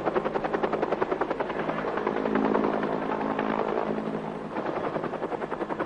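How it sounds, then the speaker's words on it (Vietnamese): A helicopter flies offshore ferrying people onto an aircraft carrier during the 1975 evacuation, its rotor pulsing in a steady, loud, continuous chop throughout with no voices. "Ở ngoài khơi, máy bay trực thăng liên tục thả người xuống hàng không mẫu hạm."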